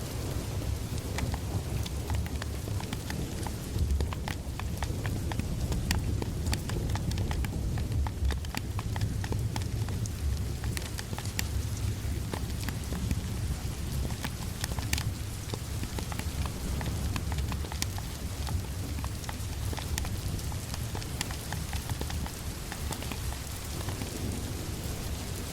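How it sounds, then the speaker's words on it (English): Steady rain falls on surfaces during a power outage, a dense continuous patter with scattered sharper drips, moderately loud and unbroken throughout, with no talking. "Seems that the rain is picking up and there might be bad weather"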